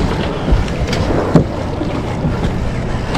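A boat motor churns steadily up close offshore of St. Augustine while trolling for kingfish, a dense low rumble mixed with water wash and wind noise.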